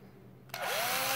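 A power drill kicks in about halfway through, running close and loud with a steady high whine while a push pin is fitted on a small Eflite UMX Timber RC plane during assembly.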